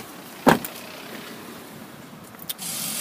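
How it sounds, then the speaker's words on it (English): Electric rear windows of a Vauxhall Astra SRI operating inside the parked car; a sharp click at the start, then a faint motor whir, and a steadier hum resuming near the end. "You've also got the electric windows in the back."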